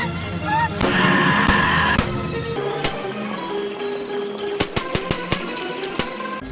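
Gunfire in the video game Darker Skies: a burst of sharp shots with a sustained loud stretch early on, then several quick separate cracks near the end, set among game music and effects.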